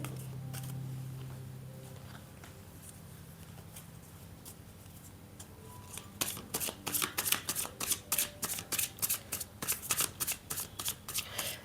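Tarot cards are handled quietly at first, then riffled and shuffled in a rapid run of crisp flicks and snaps over the last half, close by and moderately loud, with no voices.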